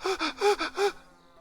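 A voice imitates heavy panting, four quick, breathy gasps in a steady rhythm, close and clear, then a faint trailing exhale.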